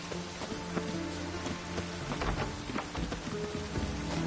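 Steady rain falls in The Witcher 3: Wild Hunt, a continuous hiss of drops pattering on surfaces with faint low rumbles beneath and soft tonal game sounds in the background.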